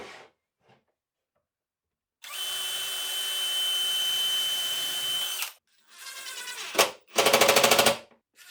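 A power drill drives screws into the fronts of toolbox drawers: one long steady whirring run, then a pause and several shorter bursts of high buzzing, close and loud with no talking.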